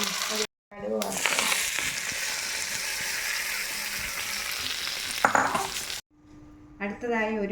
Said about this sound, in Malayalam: കടുക് വറുക്കുക.